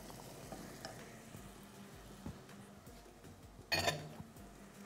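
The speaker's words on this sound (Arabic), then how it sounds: "هقلب بقى البصل مع اللحمة." Large-diced onions and meat are stirred as they fry in a pan for a baked aubergine dish: a soft, continuous sizzle broken by scraping stirs and a louder clatter of utensil near the end.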